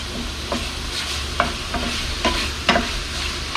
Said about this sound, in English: you just stir it around as it's cooking. This is pork.